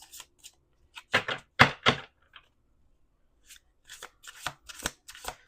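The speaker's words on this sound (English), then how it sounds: "We're gonna do 2 more shuffles." Tarot cards being shuffled by hand, several quick riffling bursts close up, a loud flurry early on followed by a pause and then another series of softer and sharper flicks, with no talking.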